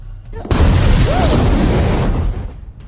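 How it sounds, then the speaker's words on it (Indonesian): A loud car explosion erupts suddenly and roars for about two seconds before tapering off into a fading rumble. "tiba-tiba mobil salah satu pengawal meledak"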